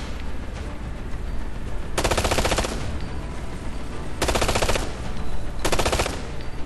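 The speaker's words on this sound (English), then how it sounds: "Just a few more shots and it'll go down." Gunfire in Ghost Recon Future Soldier as an enemy machine is shot, three loud bursts of rapid automatic fire over a constant combat background hum.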